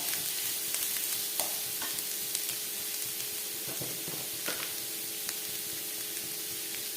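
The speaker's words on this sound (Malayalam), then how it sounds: "സബോള ഇട്ടെടുക്കണം ഈ സബോള പെട്ടെന്നാവാൻ വേണ്ടി കുറച്ച് ഉപ്പിട്ട് കൊടുക്കാം" Onions sautéing with salt in hot coconut oil in a pan, producing a steady hissing sizzle with soft stirring scrapes throughout, moderately quiet and close.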